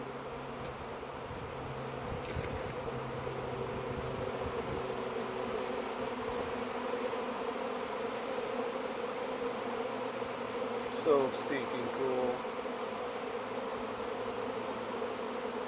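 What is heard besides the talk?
honey bee swarm buzzing in a back yard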